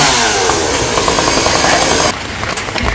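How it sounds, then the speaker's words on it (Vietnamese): A chainsaw cuts through a dipterocarp (dầu) tree trunk with a loud, close, steady buzzing roar, then drops to a lower, rougher idle partway through. "bây giờ bà của Hoa cưa tới đây luôn rồi."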